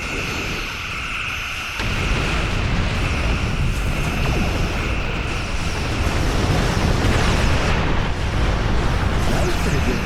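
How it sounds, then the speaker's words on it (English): Shield generators explode in the space combat video game Star Trek Online, a dense, loud, continuous roar of blasts and rumbling fire that swells after a brief quieter opening. "Let him right into the explosion of that generator."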